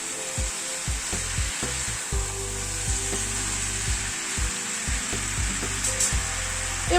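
Fish head and vegetables sizzle in a hot pan while a spatula scrapes and stirs, giving repeated bumping strokes over a steady frying hiss.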